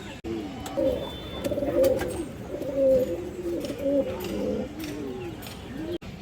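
Pigeons, including rare old-breed birds held by a seller, cooing repeatedly in soft throaty rolling calls close by, several coos overlapping through the stretch with light background noise and no talking.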